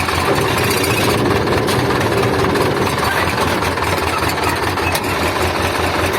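An Ursus C360 tractor with a Turbomatic hydrokinetic clutch runs under load, its engine a loud, steady, close rumble with knocking vibration throughout and no pause.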